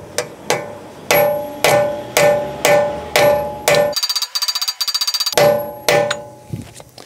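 A hammer drives a socket onto a crusty wheel nut: about ten sharp metallic strikes in a steady rhythm, close and loud, with a rapid rattling burst partway through.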